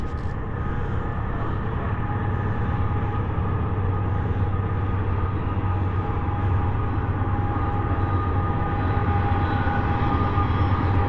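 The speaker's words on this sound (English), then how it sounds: "There's a freight train coming." A freight train passes on a cold 32-degree day near a rural Kentucky cemetery in Hatfield, giving a loud, steady rumble with sustained tonal hum and rail noise that holds for the full stretch.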